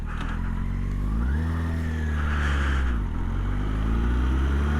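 A car engine revs up steadily in first gear, its pitch climbing, dipping briefly at a gear change and rising again, loud and close throughout with no talk.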